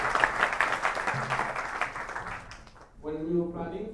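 Devotees at a lecture gathering applaud for the Maharaj, a thick burst of clapping that thins out after a few seconds before a voice begins speaking.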